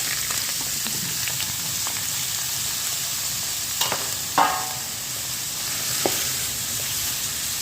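Spices and green chili fry together in hot oil for a curry, giving a continuous close sizzle with a few sharp crackles and spoon-against-pan scrapes scattered through it.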